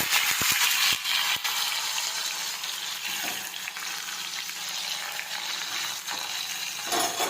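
Chopped spiny gourd (kantola) hits hot oil already seasoned with mustard seeds, cumin and crushed garlic and sets off a loud, dense, continuous sizzle, with a few sharp utensil clicks near the start and no speech.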